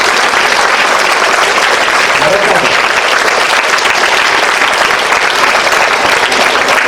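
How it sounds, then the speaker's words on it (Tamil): A large audience at a national nutrition month celebration claps steadily and loudly, a dense, even wash of applause sustained throughout without pauses. "எனக்கு ஒரு கைத்தட்டுங்க"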